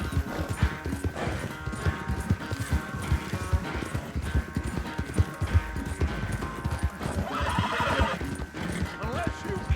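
Horses in the Red Dead Redemption 2 video game neigh and whinny over steady clip-clopping hooves at a gallop, loud and close, with a game soundtrack running underneath.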